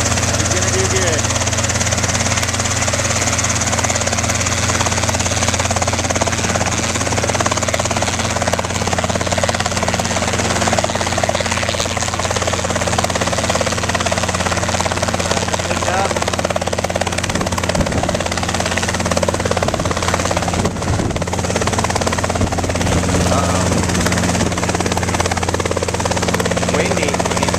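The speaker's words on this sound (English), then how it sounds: "Byron Brainard is soloing the helicopter at this moment." A helicopter runs on the ground before a student pilot's first solo flight in Utah, its engine and rotors making a loud, steady, close drone.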